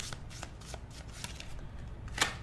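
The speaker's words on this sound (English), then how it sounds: "I'll just pull your cards first and then we'll go through them." Tarot cards being shuffled and pulled for a reading, a steady papery riffling and sliding close up that ends in one sharper snap near the finish.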